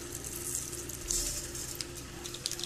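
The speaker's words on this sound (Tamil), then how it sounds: "கடுகு பொரிஞ்சிடுச்சு" Mustard seeds popping and spluttering in hot oil in a pan for a tomato chutney tempering, a continuous sizzle with scattered crackling pops, moderately close and without speech.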